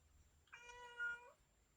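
A pet cat gives a single clear, drawn-out meow of a little under a second, close by and alone with no talk over it.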